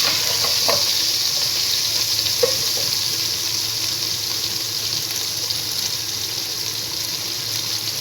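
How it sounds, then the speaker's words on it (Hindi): Chicken pieces fry in a pan on the stove, a steady broadband sizzle running close and even throughout, with a few faint clinks of a spoon against the pan and no talking. "चिकन को हमने अच्छे से फ्राई करना है।"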